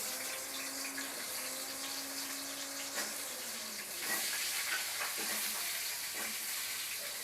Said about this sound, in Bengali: আলুগুলো ছেড়ে দিলাম ভাজার জন্য।